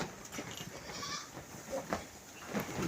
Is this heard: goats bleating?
yes